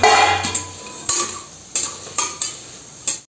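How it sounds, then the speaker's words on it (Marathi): Large chopped onions dry-roasting without oil in a pan for a village-style chicken curry, stirred with a spoon that gives about six sharp scraping clatters over a faint background crackle, close and with no talking. "हे चांगले परतून घ्यायचे कांदे मस्त असे।"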